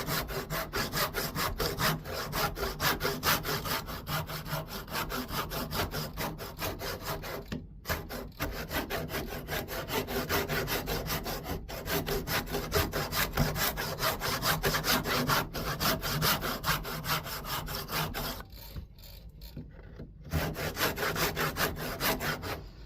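A hand saw cuts steadily through a wooden candlestick blank being shaped into a double barley twist, with fast, even rasping strokes close up, pausing briefly twice.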